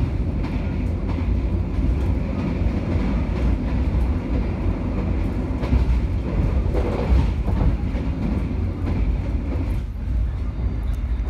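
Steady rumble and rattle inside a moving KA Manahan executive-class train on the Solo to Purwokerto run, a continuous loud low roar with faint clicking of wheels over rail joints throughout.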